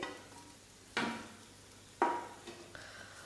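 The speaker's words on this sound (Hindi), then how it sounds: "आलू को हम 10 से 15 सेकंड अच्छे से भूनेंगे" Grated raw potato stir-fried in a pan with spices: three scraping stirs at uneven intervals, each followed by a soft sizzle, with a quiet hiss between strokes and no talking.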